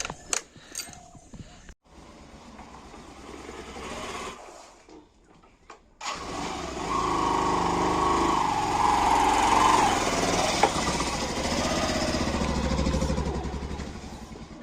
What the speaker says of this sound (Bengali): বাইকটা একটু ঢুকিয়ে দিই ভিতরে